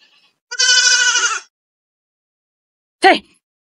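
A goat lets out one long, wavering bleat, then after a pause a second short bleat, both close and loud against silence.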